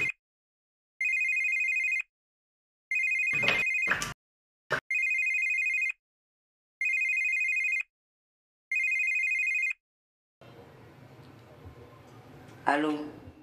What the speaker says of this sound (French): Lucie, téléphone.